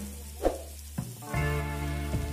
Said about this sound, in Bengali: লবণ হলুদ দিয়ে নাড়াচাড়া করে সবকিছুকে সামান্য ভেজে নেব